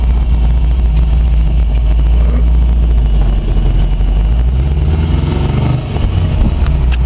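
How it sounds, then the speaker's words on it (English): A small old Toyota car's engine hums steadily at close range, a constant low drone with a slight dip near the end, no voices over it. "The car runs pretty good for its age."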